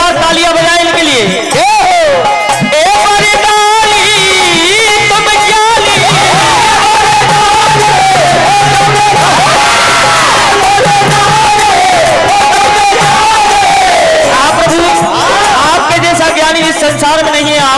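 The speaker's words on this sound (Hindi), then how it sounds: "जोरदार तालियां बजाएं इनके लिए।" Crowd at a live Hindi devotional singing stage competition, loud sustained cheering and shouting with music and amplified voices mixed in, continuous and dense throughout.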